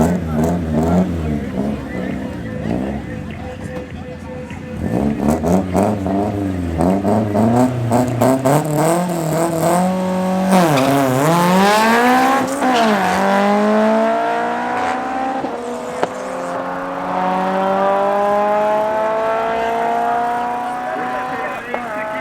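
A Toyota Corolla and a BMW M340i race at Midvaal Raceway, engines revving hard through rising gear changes with a loud, sweeping pass, under a commentator's voice.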